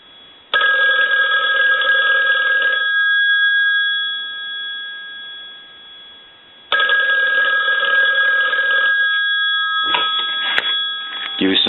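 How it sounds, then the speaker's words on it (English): A pink Western Electric 500 rotary desk telephone bell rings loudly in two long bursts with a pause between, followed by a brief rattle of the bell. "ring the telephone. We'll let that go a couple times"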